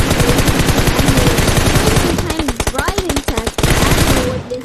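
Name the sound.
gunshots in a battle royale video game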